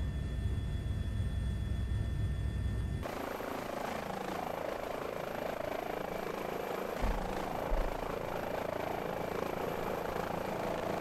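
An H145 helicopter flies in Microsoft Flight Simulator: a steady, full rotor and turbine drone fills the mix after an abrupt cut from an earlier engine state, continuous and fairly loud with no talk over it.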